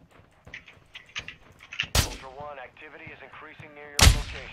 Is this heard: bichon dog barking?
no